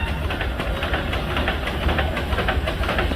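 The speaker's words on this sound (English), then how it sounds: "Starting about 1924 Buffalo Springfield steamroller with a steam-powered" A 1924 Buffalo-Springfield steam-powered steamroller starts up, giving a steady rough chugging and hissing mechanical rumble at close range, moderately loud, with no talking.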